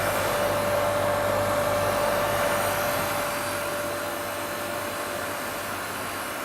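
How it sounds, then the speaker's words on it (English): An electric car lift slowly raises a 1976 MGB GT in a workshop, giving a steady, loud motor whine and drone with a constant tone that eases slightly as it goes on. No one speaks. "let me raise this car up and I'll show it to you underneath"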